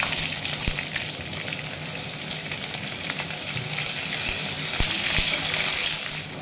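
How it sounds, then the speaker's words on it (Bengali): Onions fry in hot oil with cumin, dried red chillies and bay leaves, giving a loud, continuous crackling sizzle close by, punctuated by a few sharp spoon taps. "এখন আমি এর মধ্যে দিয়ে দেব পেঁয়াজ"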